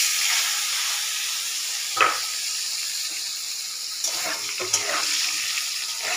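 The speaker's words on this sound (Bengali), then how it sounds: "কচুগুলো ভাজা করে নেব" Taro pieces frying in hot oil with a pinch of turmeric, giving a soft, steady sizzle with a few brief clinks and stirring scrapes.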